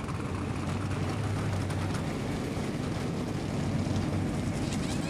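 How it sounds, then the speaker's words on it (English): NASCAR race car engines at Watkins Glen fire up together into a steady, loud, low rumbling roar that holds without a break. "Engines have fired and the window net's going up momentarily"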